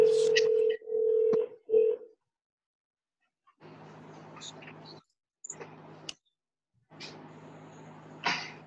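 A speakerphone dials out to join a park district board meeting, with a steady tone and tonal beeps at the start, then bursts of line noise and ringing after a short silence.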